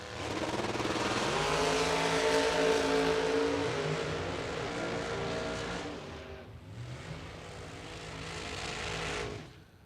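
Drag race cars roar off the line at the Summit Racing Fling in Norwalk, one with upswept headers and another with a big supercharger. A loud, sustained engine blast fills the whole stretch, fading slightly as they pull away down the strip.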